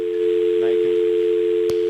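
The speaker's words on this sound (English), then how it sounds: "do we have a dial tone?" A steady telephone dial tone hums continuously on a line during a social engineering demonstration call, loud and unbroken, with a brief faint click partway through.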